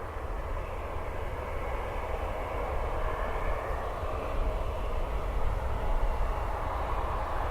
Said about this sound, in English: So it says it's a Canadair Regional Jet